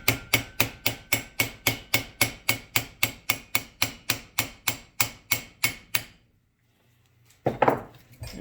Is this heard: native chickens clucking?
no